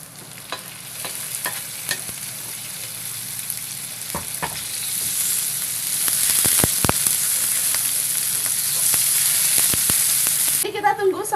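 Meat sizzles steadily in a cooked spice paste while a utensil scrapes and stirs the pan in sharp intermittent knocks, growing louder midway, with no voices.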